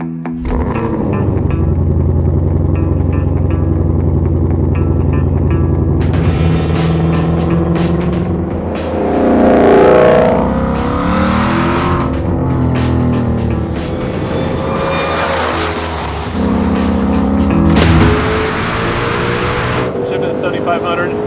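A Hennessey Venom 1000 Mustang GT500 revs and pulls away, its engine climbing and falling through the gears loud and close, with a voice talking over the drive.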